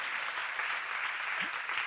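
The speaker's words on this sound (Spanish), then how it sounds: "Un aplauso para ella." Brief applause from an audience at a women's event in Lugo, Spain, a dense, even patter of clapping at moderate distance lasting under two seconds.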